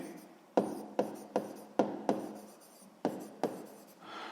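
A pen writes by hand in a sixth-grade math exercise, making about eight short, close scratchy strokes in a steady, uneven rhythm within quiet surroundings.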